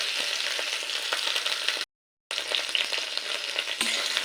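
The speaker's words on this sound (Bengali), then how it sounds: "মিনিট 2 ভেন্ডিটাও হালকা ভেজে নিয়েছি, খুব লাল করে ভাজবো না, একটু নেড়ে নিয়েছি" Okra frying lightly in oil in a pan while being stirred, a steady close sizzle with soft scraping, briefly cut to silence midway before resuming.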